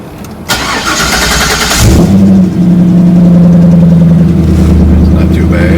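A Corvette engine cranks and fires up, catching about two seconds in and settling into a loud, steady idle with a deep rumble and slight rev fluctuations, close by.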